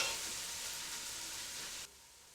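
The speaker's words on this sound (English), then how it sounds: "Mix the ingredients well and cook until the onions brown." Red onion frying in garlic and ginger paste, a close, steady sizzle that drops off suddenly near the end.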